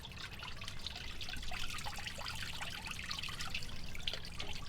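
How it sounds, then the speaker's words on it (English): Oil leaks from a race car in a steady, faint trickle and patter of dripping liquid, close by and heard alone. "Oh, it's still leaking."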